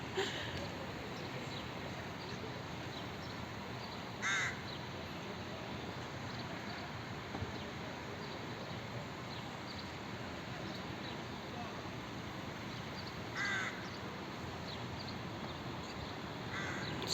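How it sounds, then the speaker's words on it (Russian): Crows caw from their nests in a Serbian fortress park beside a market and intercity bus station, two distinct calls spaced well apart over a constant hum of city ambience, with a faint voice in the background. "вороны сидят у себя в гнездах."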